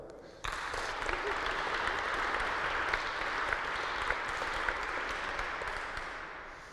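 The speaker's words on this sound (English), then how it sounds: "So please clap your hands for Gregor." Audience applause at a webpack frontend tech talk, starting abruptly and holding steady as a dense, continuous clapping from a room full of people, with no speech over it.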